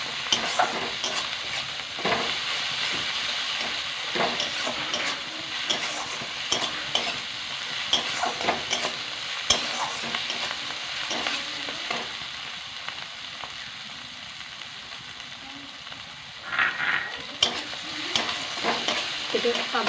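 A ginger, garlic and green chili paste fries with onion and tomato in a pan, a continuous bright sizzle under repeated scraping stirs of a spoon, close and steady.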